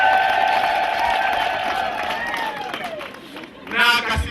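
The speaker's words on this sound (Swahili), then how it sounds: "Vigelegele kwake." Women ululate at a wedding celebration with high, wavering trills that glide downward, followed near the end by a brief burst of crowd cheering and clapping.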